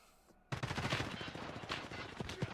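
Gunfire in the video game Escape from Tarkov starts abruptly as a rapid automatic burst of shots. The shots are fairly loud and close, with speech faintly underneath.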